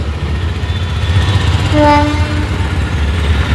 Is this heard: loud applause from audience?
no